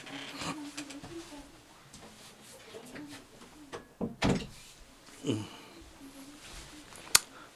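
A door is pulled shut with a few dull thumps and a final sharp click, heard in a church hall or classroom with faint room noise and occasional distant talk.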